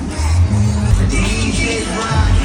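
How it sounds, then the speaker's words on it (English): A concert crowd at the Millennium Tour in Memphis cheers for a performer, a loud, dense wash of voices and noise with scattered bangs, sustained throughout. "The crowd into it though."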